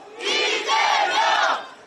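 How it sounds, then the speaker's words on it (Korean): A crowd at a political campaign rally shouts a chant in unison, three loud rhythmic bursts of massed voices rising and falling in under two seconds. "우리 다시 한번 크게 외치겠습니다"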